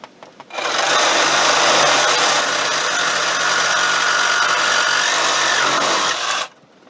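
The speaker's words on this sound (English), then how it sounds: "Let the saw do the work, don't muscle it, otherwise it's just going to make the vibrating worse." A power saw cuts steadily and loudly through material while an evaporator is replaced in a 2001-2006 Chevy/GMC Suburban, Tahoe or Yukon truck, a continuous buzzing rasp running about six seconds, then stopping abruptly.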